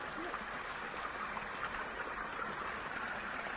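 Water let out from a dammed field channel, a steady rushing, trickling stream that is faint and continuous, heard alone without talking.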